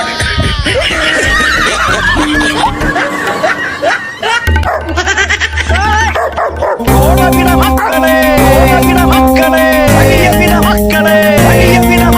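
Several dogs bark and yip on a road, with sharp, close barks breaking out in bursts against a background of music and voices, and some whimpering sounds among them.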